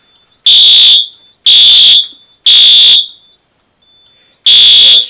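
Wheelock fire alarm horn sounding during a fire alarm system test, blaring in four loud, evenly spaced pulses about a second long, with a shrill, piercing tone and near-silent gaps between them.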